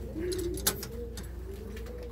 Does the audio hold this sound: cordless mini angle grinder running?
no